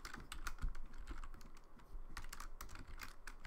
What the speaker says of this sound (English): I'm good at typing.